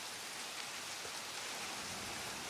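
Steady rain falls in Jurassic World Evolution, a dense, even hiss of drops spread across the whole stretch without a break, with no voices over it.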